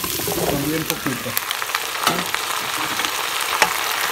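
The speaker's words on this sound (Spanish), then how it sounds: "Y ahora vamos a echarle todas nuestras calabazas y las vamos a freír" Pumpkin pieces frying in hot oil with onion and garlic in a pan, giving a loud continuous sizzle with occasional stirring clatter, while a voice speaks briefly over it.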